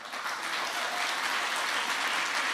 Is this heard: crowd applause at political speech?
yes